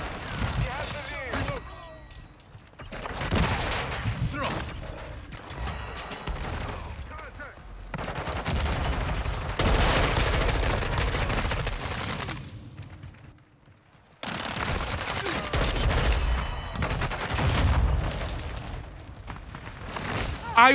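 Rapid gunfire from the Orion gun in a video game, with long sustained bursts and heavy booms separated by short lulls, loud and dense throughout.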